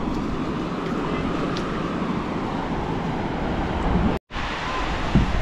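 Broad, steady rushing of sea surf close by on the Ratnagiri coast, continuous and fairly loud, broken by a brief silent cut near the end.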